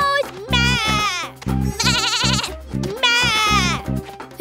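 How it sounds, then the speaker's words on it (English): A cartoon baby goat bleats several times in wavering, quavering cries, loud and close, with a voice also heard in between. "Baby goat! Baby goat! Meh!"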